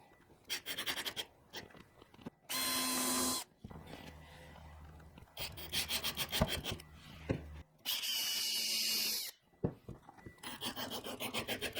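A power drill pre-drills holes for small trim screws on a sander tool holder, running in two short whirring bursts of about a second each, with quieter handling noise between them.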